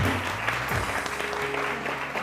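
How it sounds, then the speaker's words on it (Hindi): Studio audience on a TV morning show giving a short round of applause, steady clapping under a low hum and faint background tones. "तालियां।"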